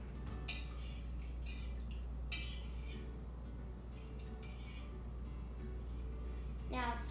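A spoon stirs homemade cornbread batter with melted butter in a bowl, giving intermittent clinks and scrapes over a low, steady kitchen hum.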